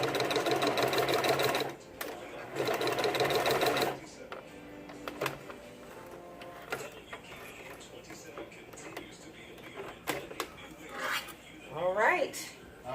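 A 1950 classic sewing machine stitches a full lace wig in two rapid, loud bursts of needle chatter, followed by quieter handling clatter while people talk.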